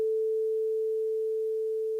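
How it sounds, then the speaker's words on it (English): A pure synthesizer sine wave at A440, a single steady, clean tone held at constant loudness from start to finish with nothing else around it. "that's the A440 that will be generally shot out when we try to make a sine wave in Audacity"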